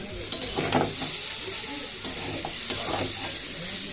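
Food frying in a home kitchen pan produces a soft, continuous sizzle, with a few clinks and scrapes of stirring near the start and again midway.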